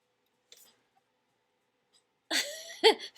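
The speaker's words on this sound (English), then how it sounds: "You can't restrain the sneeze." A faint click, then a sharp sneeze-like burst followed by a second quick burst, close and fairly quiet.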